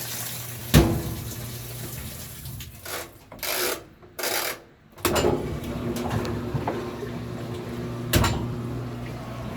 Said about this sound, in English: Look how that water's flowing.